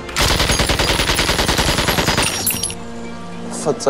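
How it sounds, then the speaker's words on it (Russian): Guns being fired as rapid automatic gunfire, a loud close burst of fast repeated shots that runs for about two and a half seconds and then stops abruptly. "Стреляй!"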